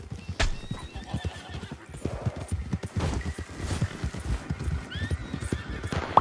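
A horse in the Red Dead Redemption 2 video game, heard close up. Hooves clip-clop in a brisk, uneven rhythm while the horse gives loud whinnying neighs over the footfalls.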